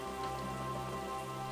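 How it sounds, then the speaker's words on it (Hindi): Heavy rain pours down in a cartoon storm, a steady, dense hiss of drops on surfaces that stays loud and even throughout, with no voices. "अचानक से तूफान आ गया, तेज बारिश होने लगी।"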